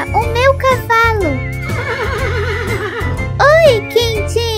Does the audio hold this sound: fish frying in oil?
no